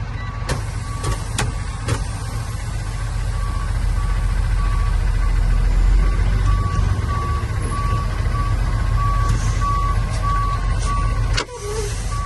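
A truck creeps forward a few feet and brakes to a complete stop during a CDL service-brake check; a loud low engine rumble runs throughout, with a steady warning tone and a few sharp clicks, and no talking.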